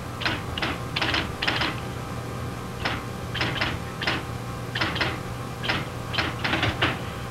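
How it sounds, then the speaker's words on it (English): A 1961 computer's electric typewriter prints out a stored number, giving short bursts of sharp mechanical key strikes in quick clusters with pauses between them, over a steady low machine hum in a quiet room. "type out on this typewriter the contents of a certain"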